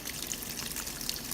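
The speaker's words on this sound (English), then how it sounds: "Rinsing, so it's taking its water." A Panda portable washing machine takes in water during its rinse cycle, giving a steady, close hissing trickle of flowing water with no talk.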